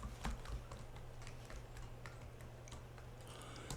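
Quiet, irregular clicking of keys on a computer keyboard as a username and password are entered, soft taps scattered across a few seconds over a low steady hum.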